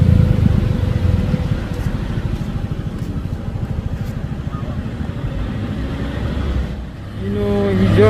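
A UD Trucks Twister trailer truck labors up a hill at Bukit Kodok, its diesel engine rumbling low and continuous at close range, fading slightly near the end before rising again.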